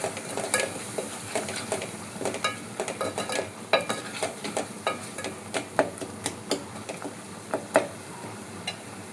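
Spinach kootu masala is stirred in a pan with a spatula, making repeated scraping and tapping strokes over a soft, steady sizzle.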